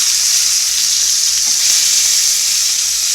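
A ribeye steak sears in a hot pan, a loud, continuous close sizzle that holds steady throughout with no voices.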